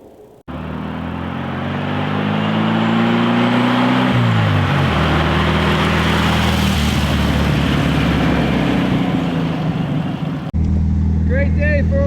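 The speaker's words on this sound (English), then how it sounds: "Throw some fuel in it and take it for a quick spin." An MP Lafer, a Brazilian-bodied car built on a Volkswagen Beetle chassis, drives out on a cold day. Its loud, steady engine drone is layered with wind rush. The pitch drops around one point as if shifting gears, then the sound briefly cuts near the end.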